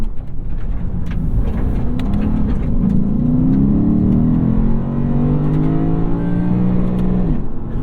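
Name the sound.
Lexus RC F engine revving to the rev limiter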